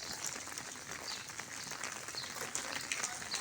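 Steady light rain falls during a rainy day, a soft continuous hiss of drops on surfaces, faint and even throughout with no talk.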